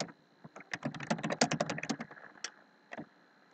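Fast bursts of typing on a computer keyboard, crisp close key clicks in a rapid cluster that slows to a few scattered taps, alone with no talking.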